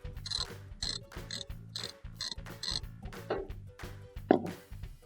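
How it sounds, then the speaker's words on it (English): A ratchet with a 3/8 inch socket loosens nuts while replacing the terminal block of a Frigidaire oven. It makes close, rhythmic bursts of quick clicking between turning strokes, with a couple of metallic clinks near the end. "I want to use a ratchet. The ratchet's got a 3/8" socket on it. And I want to loosen up all these nuts."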